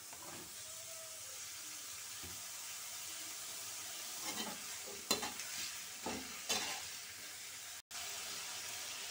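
Pointed gourd pieces and soaked lentils go into a pan and are stirred, producing a quiet sizzle with a cluster of scraping, clattering stirs in the middle and a brief drop to near silence.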